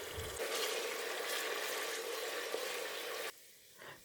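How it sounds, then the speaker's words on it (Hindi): Ground onion fries in half a cup of hot oil for a gobhi gosht mutton dish, a steady close sizzle that cuts off abruptly near the end. "इसे हम तब तक भूनेंगे जब तक ये हल्की प्याजी हो जाए।"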